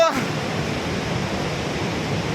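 Water released at about 10,000 cusecs from Linganamakki dam reservoir in Shimoga district pours out as a steady, loud broadband rush, continuous throughout with no pauses.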